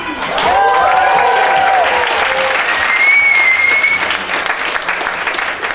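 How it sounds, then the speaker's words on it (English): Loud, sustained applause from an audience at the 2008 Quijote Awards ceremony, a dense wash of clapping that holds steady throughout, with cheers and whoops rising briefly over it. "So please, join me in a big round of applause for Spain and its exciting trip to modernity."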